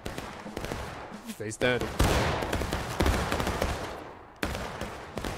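Musket volleys crack and rumble across a Civil War battlefield in War of Rights, several loud overlapping shots in bursts with scattered distant fire, while soldiers call out orders over the gunfire.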